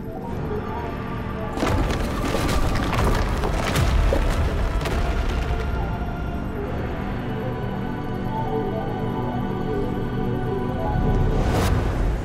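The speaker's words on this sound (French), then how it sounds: "On va lancer la bombe nucléaire." Nuclear bomb explosion in the video game Lost Ark, a loud sustained rumbling blast with crackling and booming bursts that fills the whole stretch without speech.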